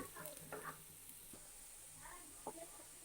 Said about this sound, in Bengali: এটা এখন আমি সুন্দর করে ভেজে নিব